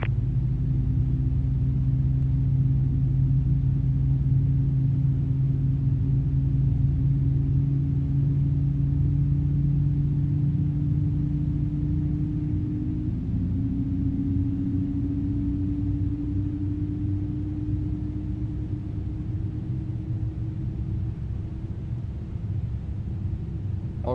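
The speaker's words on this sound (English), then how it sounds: "Sounds like we have 2 good engine starts there." Boeing 787 airliner jet engines start in a flight simulator, spooling up with a steady low roar and rising whine that shifts pitch midway, continuous and fairly loud.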